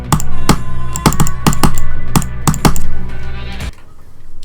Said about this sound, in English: I'll demonstrate it on mouse at full speed so you get like an idea of the click pattern